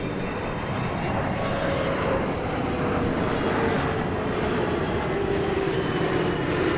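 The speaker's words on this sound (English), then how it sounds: "the big 777 has arrived" A Qatar Airways Boeing 777 arrives at DFW Airport, its engines a broad, steady roar heard from a spotting position, loud and unbroken throughout with no talk over it.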